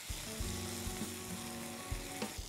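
Soaked cashews and a green chili frying gently in oil in a pan, a steady close sizzle with a few soft stirring knocks and scrapes.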